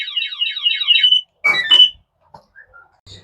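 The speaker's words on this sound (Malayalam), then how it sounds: "ഇതെങ്ങാനും ആരെങ്കിലും ഇതുപോലെ ഊരി എടുത്തു കഴിഞ്ഞാൽ ഇതുപോലെ അലാറം അടിക്കും" An anti-theft alarm on a public mobile charging station at a roadside rest stop in Kerala lets out a loud, close run of rapid warbling electronic chirps. Two shorter bursts and a few faint blips follow.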